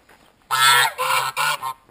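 Three loud, harsh goose honks in quick succession, very close, in Karelia, with nothing else around them.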